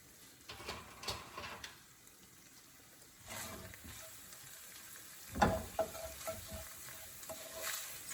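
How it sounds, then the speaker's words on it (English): Meat for burritos sizzling in a pan while being stirred, a quiet steady fry with scraping spoon strokes and a sharper clatter midway, no talking. "And then we'll stir that up."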